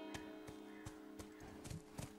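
Horse hooves in The Last of Us clip-clop at a steady walking pace, each thud evenly spaced and fairly close, over a continuous musical backdrop with no talking.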